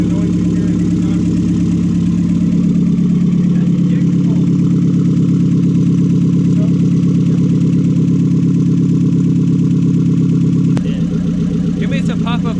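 A Japanese muscle car's engine idles steadily through the exhaust with a low, even rumble, close and loud, then shifts briefly near the end.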